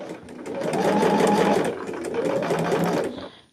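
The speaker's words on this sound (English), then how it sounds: "I am going to top stitch around the entire piece" A sewing machine runs in one steady burst of rapid stitching, topstitching around a fabric picnic caddy piece. It is close and moderately loud, then stops abruptly near the end.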